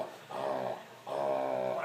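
A large dog growls in play, two drawn-out rumbling growls close by, each lasting most of a second with a short pause between.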